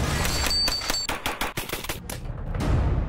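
Rapid gunfire at a three-gun shooting competition: a fast string of sharp, loud close shots in quick rhythm, then tapering into a rumbling tail with a few scattered bangs.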